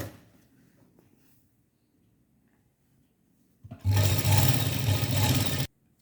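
A sewing machine stitching lace frill onto a small Ladoo Gopal doll dress runs in one steady loud burst of about two seconds after a quiet pause, close by, then stops abruptly.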